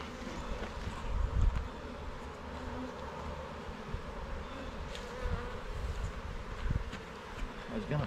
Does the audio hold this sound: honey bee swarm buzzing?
yes